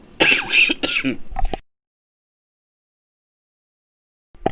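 A male game streamer clears his throat and coughs in a few rough, close bursts over the first second and a half, followed by silence and a faint sound at the very end.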